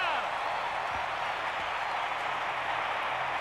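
A stadium crowd roars steadily as the 1992 Atlanta Braves clinch the National League West, a dense, sustained cheer with some clapping mixed in.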